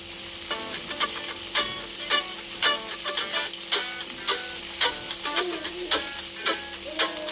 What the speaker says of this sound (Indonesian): selanjutnya kita tumis bawang merah dan tomat. Diaduk sampai layu dan masak merata